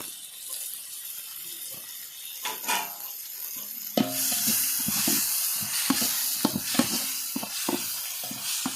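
Biryani masala with coriander and mint sautéing in a pan gives a quiet hiss that turns into a louder, steady sizzle, broken by stirring scrapes, with no talking.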